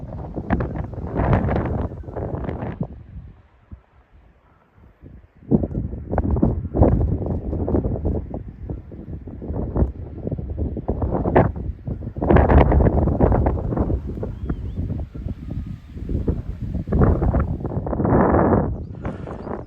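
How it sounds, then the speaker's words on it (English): Strong, cold wind buffets the microphone on an open hilltop in loud, gusty roars that rise and fall, briefly easing before surging again; no voices. "It's very windy and that wind is quite cold"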